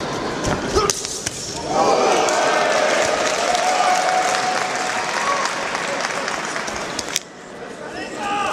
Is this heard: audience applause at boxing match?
yes